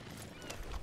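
Horse in the Western video game Red Dead Redemption 2, its hooves clip-clopping and a brief whinny in a short burst over low rumbling game ambience.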